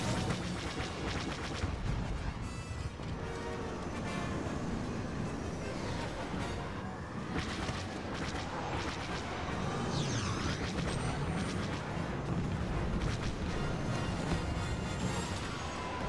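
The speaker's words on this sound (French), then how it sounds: "Les effets d'explosion et tout ça, c'est magnifique, vraiment." Explosions from the Star Wars Battlefront video game on Xbox One rumble in a dense, continuous battle din, with repeated booms layered over constant noise during a fight against Imperial transports.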